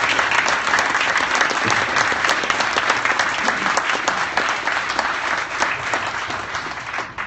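Loud, sustained applause from a large crowd at a congressional candidates' debate fills the whole stretch, a dense wash of clapping that stays even throughout.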